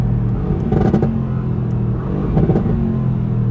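Mercedes AMG GT engine in Race mode, heard from inside the car: a loud rumbling idle rising into two distinct revs with raspy exhaust crackle, one near the first second and another around two and a half seconds.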